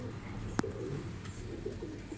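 An akbaş pigeon with two white eyes gives soft low coos at close range, preceded by a single sharp click, with a quiet indoor background.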